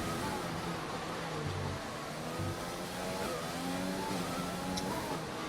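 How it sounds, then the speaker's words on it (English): A Mercedes Formula 1 car races a timed lap around Monaco in a video game. The engine whines steadily with shifting pitch under a constant roar of track ambience, faint and at a middle distance. "the next driver coming around on a timed lap is the Mercedes of Hightower"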